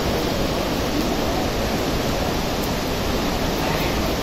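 Waterfall at Aagaya Gangai in the Kolli Hills, a steady loud broadband roar of falling water, close and continuous with no breaks and no voices.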